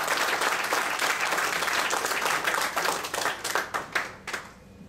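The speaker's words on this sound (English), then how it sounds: "give another huge round of applause" A room of attendees at a Toastmasters club meeting gives a loud, sustained round of applause, dense clapping that breaks into scattered separate claps before fading out.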